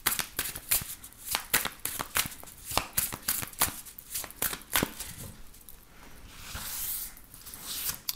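Tarot cards riffle-shuffled close up in a steady run of quick, crisp flutters and snaps that thin into a softer, continuous shuffling rustle near the end, with no voices.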